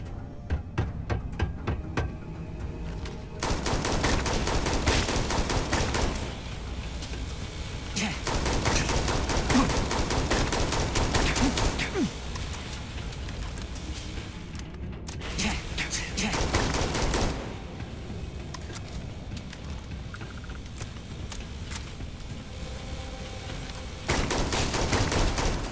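Gunfire from a weapon in the space game Starfield, bursts of rapid shots in several loud stretches separated by quieter passages of game sound and music.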